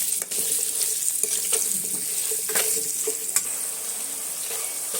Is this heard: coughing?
no